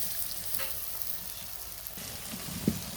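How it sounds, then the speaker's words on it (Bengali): Khesari lentil fritters (bora) frying in oil over low heat, a steady soft sizzle with a faint stirring clink near the end. "এখন কিন্তু তেলে ছেড়ে দিয়েছি বড়াটা কিন্তু এই যে দেখেন ছেড়ে দিয়েছি তেলে"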